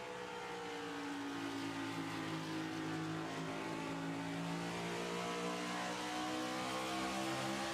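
Onboard race car engine from an eNASCAR iRacing Coca-Cola Series race at Iowa, a loud steady high-revving drone with rising harmonics throughout, unbroken by talk.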